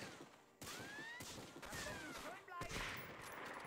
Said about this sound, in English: Where was that those shots from?